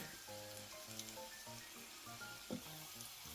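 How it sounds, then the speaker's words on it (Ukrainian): Mushroom patties sizzle steadily in a hot frying pan, a soft crackling hiss with occasional small pops, fairly quiet and close. "Котлети тільки почали смажитися, а вже так апетитно пахнув"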